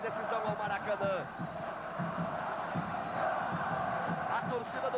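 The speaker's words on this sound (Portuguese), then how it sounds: "A torcida do Vasco começa a se assanhar. Agita as suas bandeiras. Grita, plenos pulmões." Vasco supporters roar and shout at full voice in a packed Brazilian football stadium during a championship final against São Paulo, a dense, steady crowd din with scattered yells and whoops rising above it.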